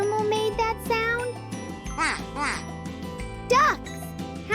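Cartoon ducks on a farm quack a few times over a bouncy, jingling children's counting-song backing track, the calls bright and close among the music.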